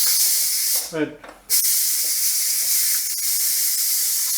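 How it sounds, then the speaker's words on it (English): Loud, steady steam hiss from the quick-release valve of a pressure cooker making Italian beef stew, filling the clip after a brief pause where a voice speaks a word. "I'm going to do a quick release on the steam."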